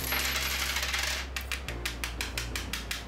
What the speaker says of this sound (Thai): หน้าจออาจจะเจอกับกุญแจเศษเหรียญต่างๆนะครับแบบการทดสอบนี้เนี่ยผมเคาะเต็มแรงเลย